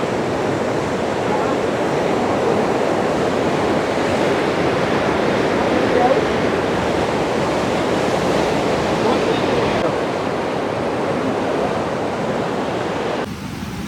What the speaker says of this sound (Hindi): ये देख लो, नदी बहुत बढ़ चुकी है, अब फिर तबाही कर दी है इसने